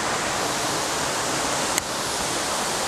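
A waterfall beside a Sobaeksan mountain trail rushes in a steady, dense, loud hiss of falling water, unbroken for the whole stretch apart from one tiny click near the end.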